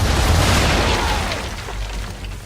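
Cannon broadside fired from a sailing warship in Assassin's Creed 3 erupts as a loud, close burst of deep booms that roll into a rumbling wash.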